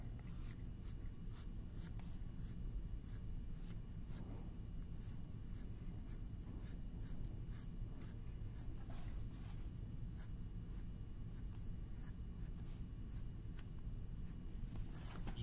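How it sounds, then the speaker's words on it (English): A pencil sketches a tree on paper, giving a steady, close, dry scratching of quick short strokes that continues throughout with no talking. "I'm going to start to make a tree right on the side here with my pencil"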